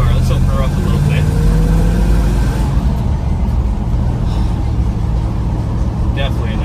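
A 1960 Chevrolet Impala pulling away on the road, its engine droning loudly in a steady low rumble that eases slightly partway through, with some faint voices.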